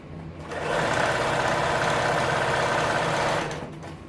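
Sewing machine stitching a window seat cushion cover, running at a steady fast hum for about three seconds after a short start-up and before stopping, with no voices.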